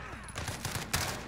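Burst-fire gunshots in Modern Warfare, a 3v3 Gunfight match, come as a quick series of sharp cracks over about a second, fairly faint in the game mix.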